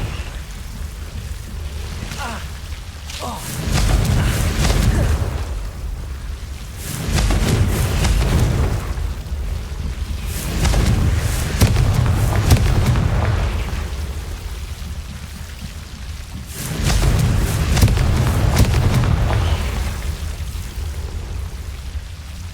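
Confringo fire spell blasts in Hogwarts Legacy, heavy booming explosions that swell and fade in repeated waves of rumbling debris over about twenty seconds, loud and close, with no speech.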